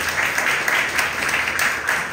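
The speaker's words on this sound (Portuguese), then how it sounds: "Aplauda-se em nome de Jesus." A church congregation breaks into sustained applause, a dense, fairly loud crackle of many hands clapping with slight swells, continuing alone without speech.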